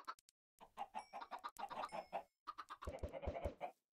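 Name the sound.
chicken clucking in Minecraft video game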